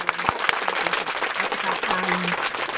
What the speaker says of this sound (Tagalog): Maraming palakpak.